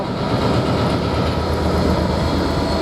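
Class 66 diesel freight locomotive 66568 passing through Peterborough station: a loud, steady, close rumbling roar of engine and wagons that fills the whole moment without a break.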